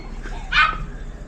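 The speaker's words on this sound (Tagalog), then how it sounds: "Uy, may aso." A single short dog bark or yip rings out against a steady background hum, with no other barks following.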